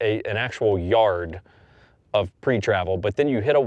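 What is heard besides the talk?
None of the usual background noises is heard.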